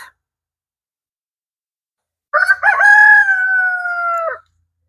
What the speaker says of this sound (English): again, the roosters are making their noise in the background